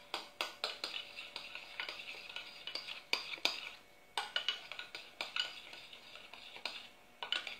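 A utensil stirs marshmallows melting in a pot for homemade fondant, with repeated close clinks and scrapes against the metal in a brisk, uneven rhythm, no one talking.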